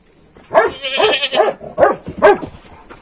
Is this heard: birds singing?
no